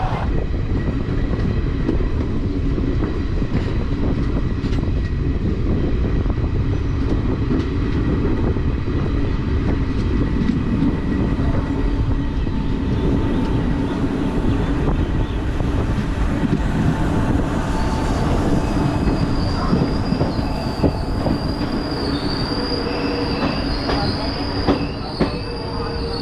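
The Shaktipunj Express pulls into a junction station, steel wheels squealing loudly and continuously over a rumbling, clattering undercarriage, with shrill high tones rising toward the end.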